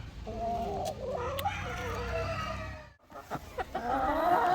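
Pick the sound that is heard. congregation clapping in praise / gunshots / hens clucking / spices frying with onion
hens clucking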